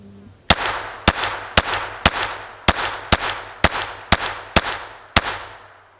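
A Glock 44 pistol fires .22 rounds, ten sharp loud shots in an even rapid cadence, each followed by a short ringing echo of an outdoor range.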